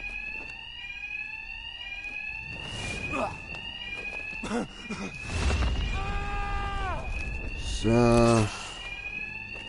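A rising-and-falling electronic alarm in the Batman Arkham Knight video game rings continuously in the background, with someone talking over it and game sounds and voices breaking in.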